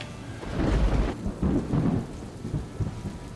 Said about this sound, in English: the sound of a thunder announced not just the rain that was coming soon